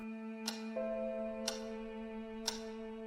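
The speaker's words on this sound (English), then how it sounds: "the dead silence of the area surrounding Blackwood Manor is abolished by the loud ticking of a grandfather clock" A grandfather clock in the empty Blackwood Manor of the horror game Scratches ticks loudly, three evenly spaced ticks about a second apart over a sustained low tonal hum.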